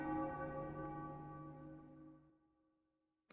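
A church bell in Final Fantasy 9 rings out with one loud, resonant strike whose harmonic tones hang and slowly decay over about three seconds, with no talk over it.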